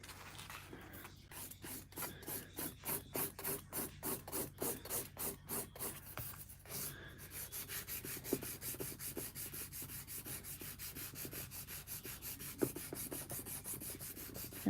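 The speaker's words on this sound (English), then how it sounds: "So just straight filing now so that I work back towards the apex." A hand file rasps against metal in a fast, even rhythm of close strokes, stopping briefly, then continuing as quicker, lighter strokes that blur into a steady scraping with a few faint knocks.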